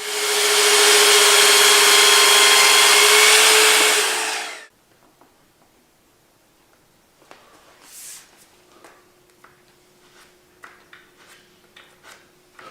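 A power saw cuts wood trim at a 22.5 degree angle, a loud steady whine for about four and a half seconds that stops abruptly, followed by quiet handling clicks and faint talk.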